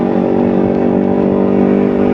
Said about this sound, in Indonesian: saya pakai knalpot racing di motor Ninja 250 Fi saya